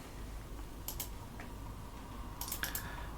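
Faint keystrokes on a computer keyboard come in two short clusters over a steady hum, typing a command on an Arch-based Linux system.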